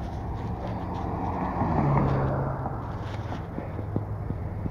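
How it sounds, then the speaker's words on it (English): Cars speeding past on a road, heard from a bicycle: a steady roar of traffic with one vehicle swelling louder as it passes close, then fading, under wind noise. "You can tell by how the cars sound."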